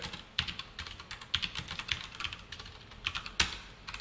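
JavaScript code is typed on a computer keyboard in a steady run of close, crisp keystrokes, with a few louder key hits spaced among them and no voices.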